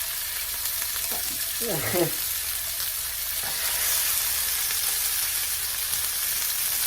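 Salmon fillets laid skin side up in a hot oiled pan, crackling in a steady close sizzle that holds throughout, with a brief voice murmuring underneath early on.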